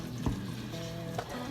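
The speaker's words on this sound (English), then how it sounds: "ground beef in here with some onion and garlic. And I am just browning it" Ground beef with onion and garlic browning in an Instant Pot gives a steady, close sizzle and crackle of frying, with a brief scrape of stirring.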